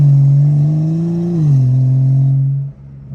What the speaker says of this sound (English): This shit kinda shifting a little bit too slow.